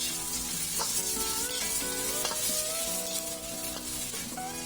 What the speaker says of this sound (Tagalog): So lutuin lang natin yung ating hipon for at least 1 minute.